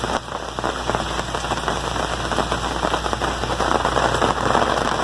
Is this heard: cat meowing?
no